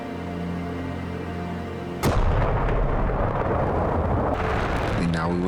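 Video game explosions as a cruise missile destroys its target: a sudden heavy blast cuts in midway over a steady engine drone, followed by a rumbling roar and another burst near the end.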